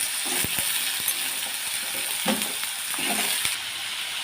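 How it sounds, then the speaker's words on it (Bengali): Potatoes fry in hot oil in a kadai with dried chili and panch phoron, giving a steady broad sizzle with a few sharp clinks and scrapes of a spoon against the pan. "আলুটা ভালো করে সম্বর দিয়ে ভেজে নেব"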